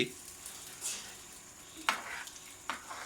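Eggs frying with ham in oil, a quiet steady sizzle with a few sharp clinks and scrapes from stirring.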